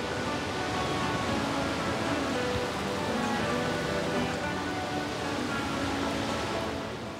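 Heavy storm rain in Iceland pours down in a loud, continuous roaring hiss mixed with gusting wind, steady throughout with no voices.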